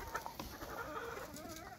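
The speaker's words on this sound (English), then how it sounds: "He's bantam, so he's like a miniature rooster." A bantam rooster clucks softly in a backyard flock, a few quick, faint clucks and a short trailing call heard at a distance among other chickens.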